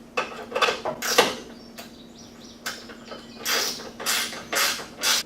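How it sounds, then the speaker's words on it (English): Small 10 mm factory bolts on a rear bumper of a 2018 Polaris XP1000 side-by-side are tightened with a ratchet, producing irregular bursts of close clicking and creaking with brief pauses between, with no talk. "I'm going to tighten up these small 10mm factory bolts"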